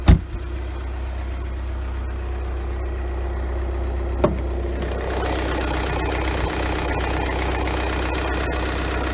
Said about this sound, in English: Got the 2-liter turbo diesel 4-cylinder, Volkswagen's good old TDI. Runs exceptionally smooth.